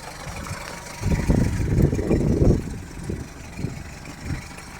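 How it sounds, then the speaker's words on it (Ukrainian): An Audi 80 1.8 petrol engine, already warm, idles nearby with a low, uneven rumble that swells briefly in the middle before settling back to a steady idle. "І зараз я її заведу і... Отак вона працює."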